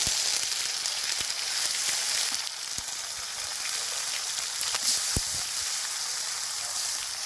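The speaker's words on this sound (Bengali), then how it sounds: "5 ফোড়ন, দিয়ে দিচ্ছি কেটে রাখা টমেটো" Chopped tomatoes hit hot oil tempered with whole bay leaf and five-spice, giving a steady, bright sizzle and crackle throughout, with a few sharp pops and no talking.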